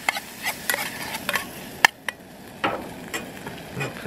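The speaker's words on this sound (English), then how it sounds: "We're just gonna stir fry that a little bit as well. And kimchi, of course." Kimchi is stir-fried in a pan on a cold-weather truck camping trip, with a low sizzle under a string of close, sharp spatula scrapes and clinks against the pan.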